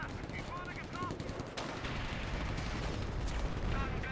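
A video game tank fires high-explosive shells at infantry amid a dense, continuous roar of gunfire and blasts, a heavy layered barrage with sharp cracks, faint pinging tones and distant booms under it.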